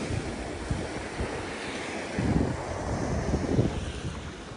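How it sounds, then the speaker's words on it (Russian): Gentle, calm sea waves wash softly onto the beach at Irakli, Bulgaria, a steady low surf murmur with light wind noise and no voices. "Такая редкость на пляже Иракли, что море спокойное, можно хорошо купаться."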